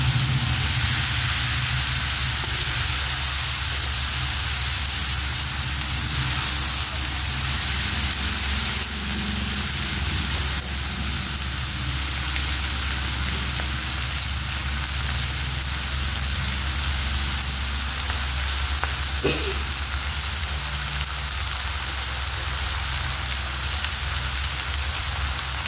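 Fried rice frying in a pan with a steady, broadband sizzle and hiss throughout, heard close and alone with no talking, and little sign of distinct stirring strokes.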